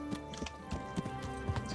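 Horse hooves gallop in Kingdom Come: Deliverance, a steady, rhythmic clip-clop of hoofbeats at close range, continuous throughout with no talking.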